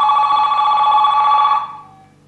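An analogue AMPS cellular phone connected to a JRC NJZ-900A tester rings with a steady, loud electronic trill for about a second and a half, then cuts off, leaving a faint fading tail.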